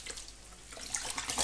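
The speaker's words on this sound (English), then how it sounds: "Now we need to rinse it a couple of times in the clean water." Wool knitwear is rinsed by hand in clean water in a sink, giving soft, close sloshing and splashing with small drips, fairly quiet and without speech.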